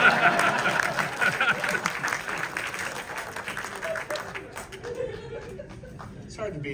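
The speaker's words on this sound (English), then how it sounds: "I would actually like to give you a round of applause" An audience at an Evil Dead Rise horror film screening applauds loudly and steadily, with chuckles and laughter mixed into the clapping crowd before it fades slightly toward the end.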